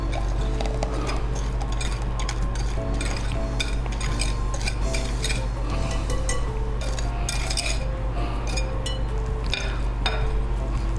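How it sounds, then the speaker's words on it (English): Wet ingredients stirred into cranberry bread batter in a bowl, giving a continuous run of clinking and scraping utensil sounds under constant background music. "I'm just going to mix it in till it's all moistened."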